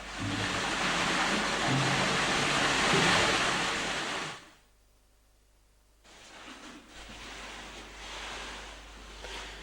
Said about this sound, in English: The stream soon cascades over the lip of a 5-metre pot